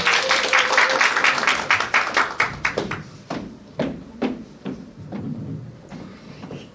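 Applause from an audience at a Korean business meeting, starting as a dense burst of clapping, then thinning into a few scattered, separate claps that fade away.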